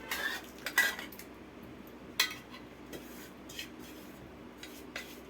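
A metal spoon stirring water avakaya mango pickle in a dish, with a few sharp scrapes and clinks scattered over several seconds against a quiet background.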